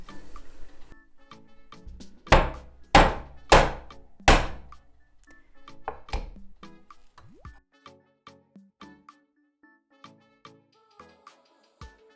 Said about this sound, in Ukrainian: І б'ю молотком